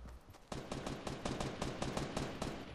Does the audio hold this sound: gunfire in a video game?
yes